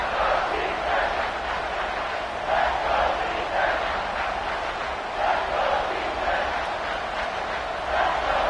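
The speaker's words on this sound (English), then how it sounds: "And the crowd coming to life here, trying to help this defense down in the red zone." Football stadium crowd roaring steadily in a dense, sustained wash of cheering and shouting, swelling in waves as fans try to rally the defense in the red zone.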